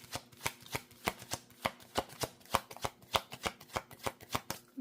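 A deck of tarot cards is riffled and shuffled over and over in quick, crisp bursts, close and clear with no talking.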